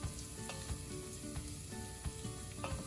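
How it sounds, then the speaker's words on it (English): Dried shrimp fry in olive oil over very low heat, a steady dense sizzle with soft intermittent scrapes and clinks as they are stirred around the pan. "stir it to rotate the shrimp in there so they get evenly browned and cooked"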